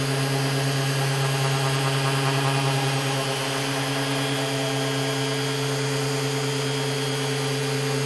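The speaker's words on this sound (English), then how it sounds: "I let the sander take its time." A drum sander runs steadily while sanding wood, a continuous loud motor hum with a constant abrasive hiss, unchanging and close, with no talking.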